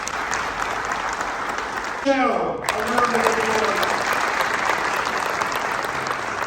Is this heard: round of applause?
yes